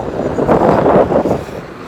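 Cold wind buffets an outdoor microphone in loud, rumbling gusts that swell and fade over a couple of seconds, with no voices.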